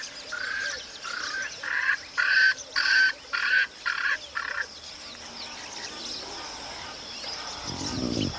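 A Swainson's francolin in the African savanna gives a loud series of about seven harsh, rhythmic, grating calls close by, then falls quiet into soft outdoor ambience.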